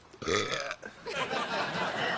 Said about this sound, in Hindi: अरे बेटा, हींग, भुनावा जीरा, लहसुन, घुइया सब कुछ खा लो, तभी भी डकार न रुकी।